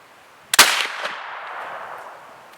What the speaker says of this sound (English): That was a slight hang fire.